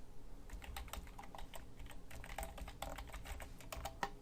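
Rapid keystrokes clatter on a computer keyboard as an email address is typed in, a quick uneven run of close, soft clicks with no talking.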